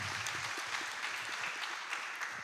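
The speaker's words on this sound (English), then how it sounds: "let's make an applause, a big applause" A crowd at a youth peace ceremony breaks into big applause, an even, sustained roar of many hands clapping at moderate distance, uninterrupted by talk.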